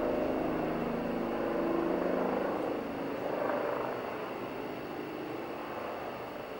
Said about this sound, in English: Amber, I hear a helicopter